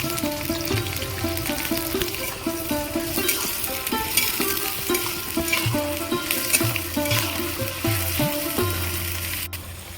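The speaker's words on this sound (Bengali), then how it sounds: "পেঁয়াজ বেরেস্তা এইভাবে একভাবে নেড়ে যেতে হবে" Onions being fried for beresta in oil started cold for a Bengali chicken curry, sizzling steadily while stirred in even repeated strokes throughout, with music playing loudly over the frying.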